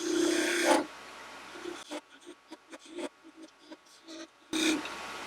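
Spindle gouge cutting a wooden spatula on a lathe: a loud rasping cut at the start and again near the end, with quieter intermittent scraping passes in between.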